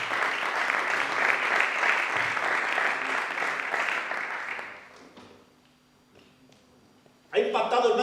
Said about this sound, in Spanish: Dame un fuerte aplauso a Dios